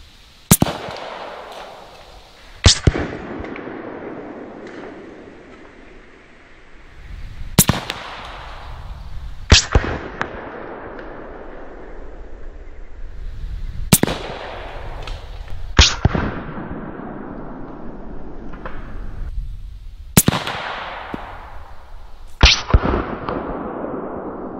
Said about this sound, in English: You fire into it, and then once you hit the soda, it's like a second gunshot goes off.